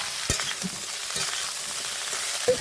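Drumsticks (sojne data) and brinjal being stirred in a pan for a vegetarian bori curry, with a low steady sizzle and a few soft scraping strokes, quiet and close, no talk.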